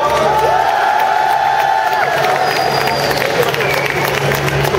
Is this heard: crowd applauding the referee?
yes